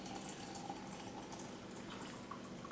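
Hot water pours steadily from a Chew Fun electric kettle into a cup, a faint, continuous liquid trickle heard alone at low level throughout.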